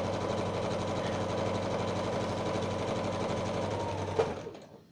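A sewing machine stitches fabric in a fast, steady mechanical rhythm at close range. It runs for about four seconds, then gives a brief clunk and stops.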